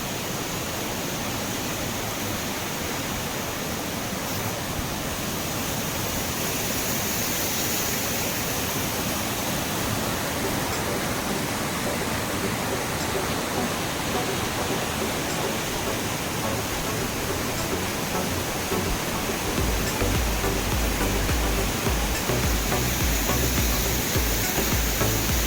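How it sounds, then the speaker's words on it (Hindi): The Ganga river rushes below a bridge near Manikaran, a steady loud broadband roar of flowing water that holds constant throughout with no voices. "नीचे गंगा बह रही है और पानी है कलकल कलकल कर रहा"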